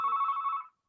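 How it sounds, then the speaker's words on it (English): A telephone rings once during a committee meeting, a steady bright electronic tone sounding for under a second and then cutting off into silence, fairly soft in the room. "I'm not sure who's ringing here"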